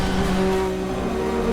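BTCC hybrid touring race cars accelerate hard on track, a loud, steady engine drone with sustained high-revving tones close by throughout.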